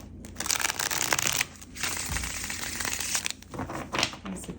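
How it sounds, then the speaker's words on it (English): Papery riffling and crinkling of tarot cards being shuffled, close up, in several bursts with brief pauses between them. "That's a great shuffle."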